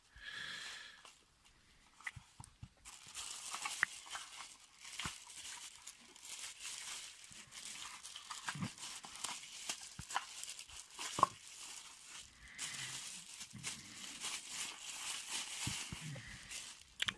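Packaging of a Takahashi LE 7.5mm telescope eyepiece being unwrapped: soft, close crinkling and rustling with small tearing sounds, quiet and ongoing, with occasional handling bumps.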